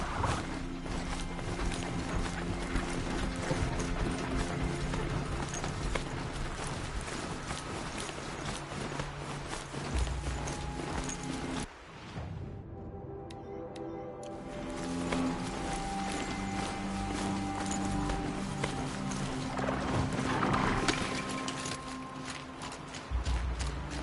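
Horse hooves clip-clop steadily as a rider travels on horseback in the video game Horizon Zero Dawn, the rhythmic footfalls sitting under continuous game music and ambience with a brief dip midway.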